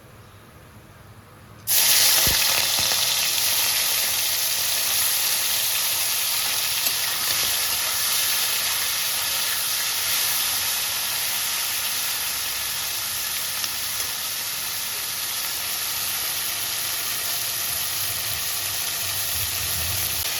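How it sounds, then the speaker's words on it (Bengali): Prawns dropped into hot oil for a Bengali potol chingri dish set off a sudden loud, hissing sizzle that holds steady and close for the rest of the stretch, with no talk. "এবার আমি চিংড়ি মাছটা ভেজে নেবো"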